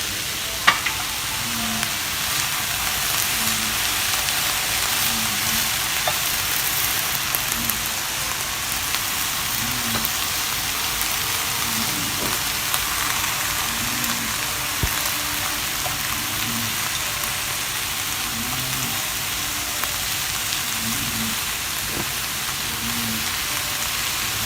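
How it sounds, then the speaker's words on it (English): Vegetables sauté in a pan for a steak and ale chowder, giving a steady, even sizzle that fills the whole stretch, with faint rhythmic ticks and soft pops underneath and no talking. "I'm going to continue sauteing the veggies a little bit longer"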